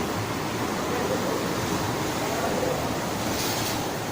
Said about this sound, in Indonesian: Air laut naik